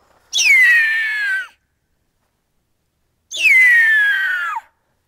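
A person imitates an eagle's cry: two loud, separate whistled screeches about a second long each, starting high, dropping sharply and then tailing off, with a pause of a couple of seconds between them.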